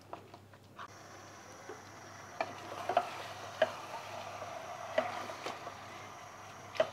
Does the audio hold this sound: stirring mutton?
yes